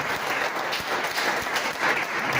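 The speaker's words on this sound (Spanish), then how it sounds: "Un aplauso para nuestro amigo." A church congregation applauds for a friend, a dense, continuous wash of clapping from many hands, loud and close, filling the whole moment without talk.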